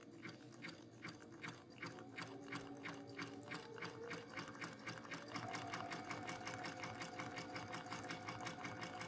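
A sewing machine stitches reverse applique on a floral holiday quilt design, producing a steady close run of rapid needle clatter that continues throughout.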